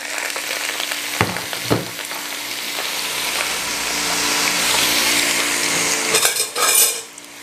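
Pre-prepared vegetables being stir-fried in a frying pan, a loud, close, rushing sizzle with a few clattering knocks of utensil on metal, swelling steadily before a burst of scraping near the end.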